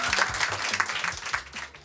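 Steady applause from an audience at a quiz night fills the whole moment, a dense wash of clapping with no gaps and no voices on top of it.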